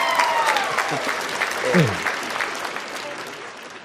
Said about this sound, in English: hey y'all give him a round of applause for that